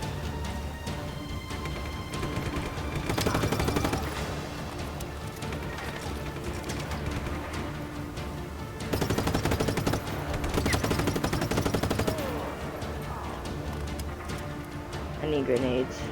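Rapid automatic gunfire bursts from the video game Just Cause 3 over layered game music and effects, heaviest around the fourth and tenth seconds, with a player talking throughout.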